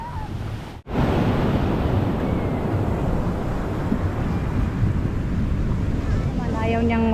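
Sea waves washing onto Dinadiawan Beach in Aurora, Philippines, a continuous roaring surf with heavy wind buffeting the microphone, loud and close, with a brief cut near the start and a faint voice at the end.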